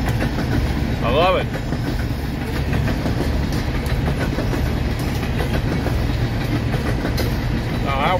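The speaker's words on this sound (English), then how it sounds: "With a dump truck and a train full of coal at the same time." A coal-laden freight train rolls past at close range with a steady rumble and clatter of railcars, while someone speaks briefly over the noise.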